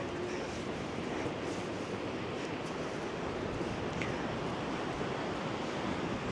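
Storm waves crash on the Black Sea shore at Arcadia in Odesa, a continuous loud roar of surf mixed with gusting wind buffeting the microphone, with no clear pause between breakers.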